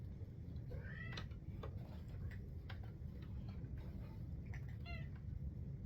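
A house cat meows a few times near someone working on a nalbinding hat with tablet-woven trim, faint plaintive calls over a steady low background hum, with soft ticking clicks in between.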